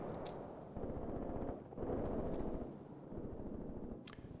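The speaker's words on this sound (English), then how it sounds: "Just have the mortars shoot a line like this." Mortar fire in the Graviteam Tactics wartime video game, with distant low rumbling blasts and rolling booms, fairly faint, no talk.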